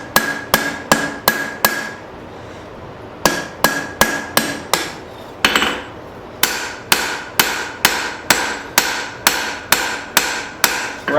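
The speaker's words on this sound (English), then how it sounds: "Right now, this is all rounding hammer" Rounding hammer striking hot metal on an anvil while forging, sharp ringing blows in quick steady bursts of four or five, with a short pause between groups, close and loud.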